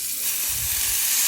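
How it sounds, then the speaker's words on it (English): A chuck roast searing in a hot cast iron pan gives a brief, loud, continuous hiss-like sizzle at close range. "Now I'm going to sear this in my cast iron."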